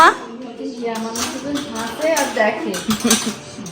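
Plates and cutlery clink during a home dinner of roti, cauliflower-potato curry and fried eggplant, as scattered light knocks under steady conversation close by.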